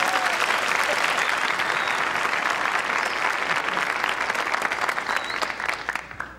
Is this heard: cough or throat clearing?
no